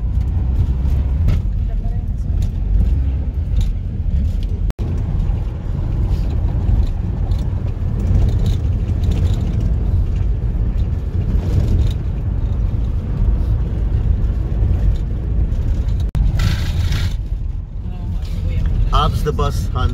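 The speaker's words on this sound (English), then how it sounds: "And even out here in the province, it's so busy. The traffic is so heavy." Heavy road traffic on a busy provincial highway in the Philippines between Manila and Bicol, heard from inside a moving vehicle as a steady engine and road rumble with passing buses and cars, under continuous conversation.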